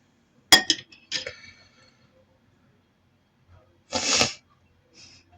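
A spoon clinks against dishes a few times in a kitchen where a Sichuan beef wrap with a tortilla is being made, sharp bright taps separated by pauses and one louder clattering scrape.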